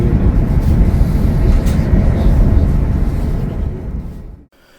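Steady low rumble and rolling noise inside a high-speed bullet train in China, loud and continuous with no talk, dropping away abruptly in the final half second.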